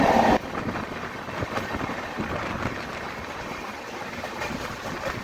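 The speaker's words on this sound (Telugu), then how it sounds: "వన్ మినిట్ స్టాప్ తర్వాత మన ట్రైన్ అయితే మూవ్ చేస్తారు" Steady rumble and wind rush from inside the general coach of the Swarnajayanthi superfast express as it runs, a continuous broadband roar with a sharper burst at the very start and no voices.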